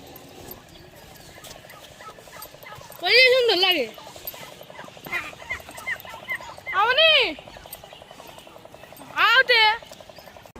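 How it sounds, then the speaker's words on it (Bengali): Several turkeys at a bird park and eco village gobble in three loud, close bursts, spaced a few seconds apart, with a person speaking briefly between them. "এখানে আপনারা দেখতে পাচ্ছেন অসংখ্য টার্কি মুরগ খেলা করতেছে"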